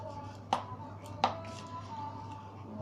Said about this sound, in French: Donc on va les couper en morceaux.